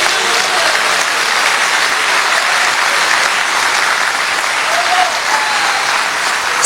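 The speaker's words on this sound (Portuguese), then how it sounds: "Pode aplaudir a Jesus." Loud, continuous applause from a church congregation during a sermon, a thick unbroken roar of clapping sustained evenly for several seconds with a few faint voices rising above it.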